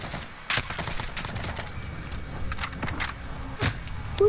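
Incendiary bullet gunfire in a Warzone match, heard as several sharp, fairly close gunshots spaced irregularly, with a scatter of quieter distant shots and faint rustling movement in between.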